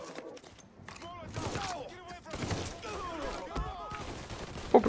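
Gunfire from a weapon in the video game Mafia III, with a string of sharp, rapid shots and bursts crackling through the clip amid other game noise and someone talking over it.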